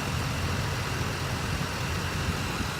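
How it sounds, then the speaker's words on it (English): Constant low rumble of a 2011 Chevrolet Silverado 2500 Duramax diesel pickup idling or cruising nearby, a steady droning exhaust note with no voices. "I want you guys to hear that exhaust."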